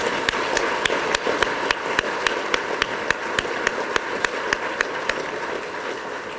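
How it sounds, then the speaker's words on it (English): Crowd applause for a regional ports board at a community State of the Region event, a dense sustained wash of many hands clapping with sharp individual claps popping out steadily, fairly loud and with no talk. "you deserve a huge round of applause"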